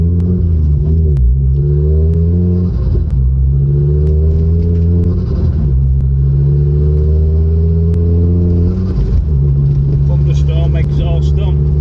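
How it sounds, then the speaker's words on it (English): Modified Ford Focus RS MK2 exhaust booming loudly as the car accelerates, a steady deep throbbing rumble with rising and falling pitch across several pulls, close and continuous. "Exhaust on, but on acceleration as well, it is quite loud."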